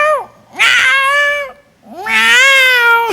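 A voice imitates an aroused tomcat with two long, loud, drawn-out yowling meows, close to the listener and separated by a short pause.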